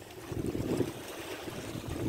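Strong wind gusts buffet the microphone at a seaside fishport in General Santos, a steady low rumble with swelling surges, no voices.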